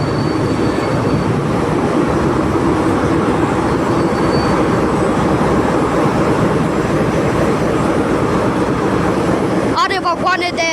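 A locomotive pulling three passenger wagons rolls into Vaslui station on the Bârlad–Iași line, running three minutes late: a loud, continuous rumble and clatter of wheels on rails, with voices talking over it.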